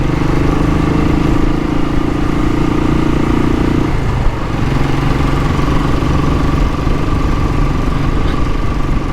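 A 2017 Royal Enfield Classic 500 Bullet single-cylinder engine running steadily, a loud, close, continuous thumping drone with a brief dip in pitch midway.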